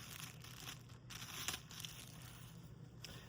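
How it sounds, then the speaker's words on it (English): Packaging around accessories for heated mittens is unwrapped, giving faint, close crinkling and tearing rustles in irregular bursts, alone without talk. "So let's unwrap this."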